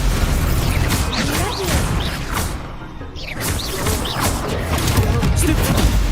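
A Stupefy spell is cast in Hogwarts Legacy during a duel, heard as a dense, loud wash of magical whooshes and impact crashes that runs continuously with no pause.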